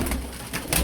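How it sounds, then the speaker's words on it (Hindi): A soft, low pigeon coo close by, brief and murmuring against faint background noise. "इसके साथ जी अली भाई ने कबूतर पकड़ा हुआ था।"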